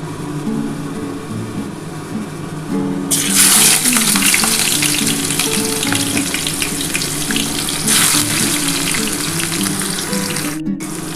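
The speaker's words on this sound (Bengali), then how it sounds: "দেখো আমার তেল কিন্তু গরম হয়ে গেছে এবার আমি পেঁয়াজটা দিয়ে দিচ্ছি" Onions go into hot oil in a Bengali kitchen pan for a lote fish dish, a loud hissing sizzle bursting on suddenly and holding strong, with a second surge partway through and no talking.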